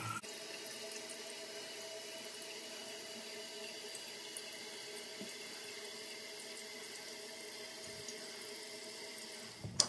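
A Kohler toilet tank refills after a weak-flush repair, water rushing and hissing steadily through the fill valve at low level for about ten seconds, with a faint click near the end.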